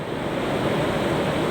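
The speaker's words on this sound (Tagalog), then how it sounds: "at galit ng dagat sa laki at hampas ng mga alon na to." Big, rough sea waves churn and crash steadily at close range, a loud continuous wash of surf and wind with no voices.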